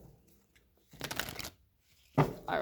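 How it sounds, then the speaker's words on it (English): Two quick bursts of cards being riffled and shuffled, close by, separated by quiet pauses, with a third rustle starting near the end. "One more shuffle."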